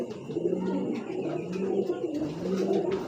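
Belgian racing pigeon, a young 2024 breeding bird, cooing in a low, steady series of throaty murmurs that run nearly continuously and stay close and moderately loud, with no talk over them.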